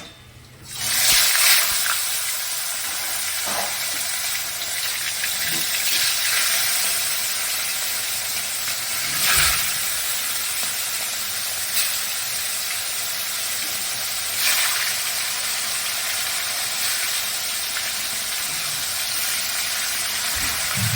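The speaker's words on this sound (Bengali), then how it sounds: "তেল গরম হয়ে গেছে, এবার মাছগুলোকে ভেজে নিচ্ছি।" Snakehead fish fry in hot oil in a wok, producing a long, steady, close sizzle with occasional swells as pieces are moved or turned.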